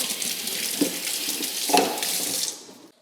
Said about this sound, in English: I'm gonna rinse this off because it had alcohol on it.